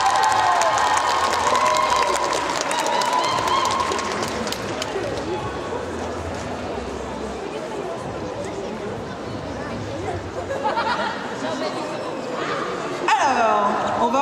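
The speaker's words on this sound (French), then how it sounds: "On applaudit les accessoiristes!" An audience at a cosplay contest at Japan Pop Show Mons 2023 claps and cheers amid chatter and some laughter, the applause rising and falling with a voice heard over it.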